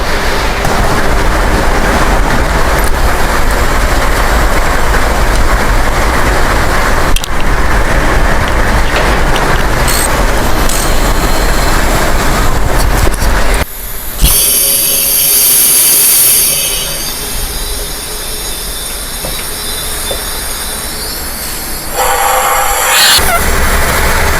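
Air hissing steadily out of the leaking valves of a 2014 BMW S1000RR engine with its valve clearance out, a continuous loud broadband rush that dips and shifts in tone partway through, no voices.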